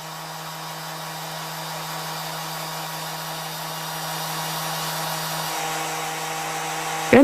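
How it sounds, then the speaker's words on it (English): A power sander runs steadily during a sound test, a continuous, even whir with a faint hum beneath it that holds for several seconds and swells slightly toward the end before a brief clunk. "Once the tester sets up a microphone, the sander is ready for a solo."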